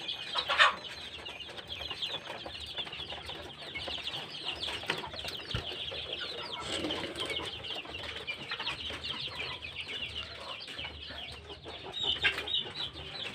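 Young joper chickens recovering from a cold, kept in a cardboard box, cluck and peep steadily at close range, with a few louder calls near the start and end and no talk.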